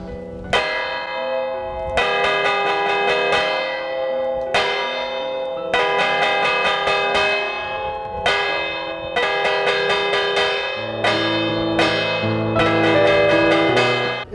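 Church bells rung as a village fire alarm, loud close peals struck in rapid repeated clusters with short pauses between, ringing on steadily throughout.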